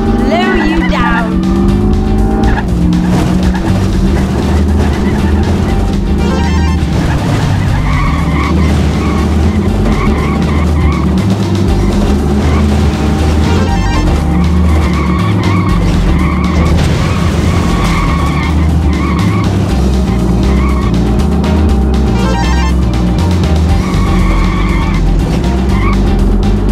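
Engine roar and tire skidding from cars racing through city streets in the video game Midtown Madness 2, a loud continuous drone with shifting pitch and repeated squeals, a voice talking over it.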